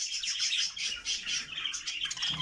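A dense chorus of young budgerigars in a breeding room chirping and chattering continuously, bright, busy and close, with no talking.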